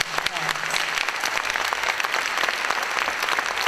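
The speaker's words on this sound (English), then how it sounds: "So let's give her a great round of applause." Audience applause at an appreciation ceremony, dense steady clapping from a room of people lasting throughout, with some voices mixed in beneath.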